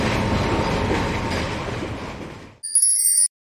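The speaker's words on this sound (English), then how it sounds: "Freight train." A freight train rolls past with a loud, steady broadband rumble that gradually fades, cut off abruptly by a short, bright electronic chime.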